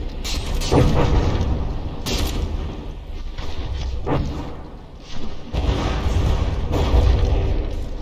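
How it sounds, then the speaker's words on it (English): Naval shells detonate beneath a battleship hull in the From the Depths game, a run of heavy booming thuds and rumbling blasts arriving in irregular bursts, loud and close. "some of those shells managed to get under here and detonate on the underside"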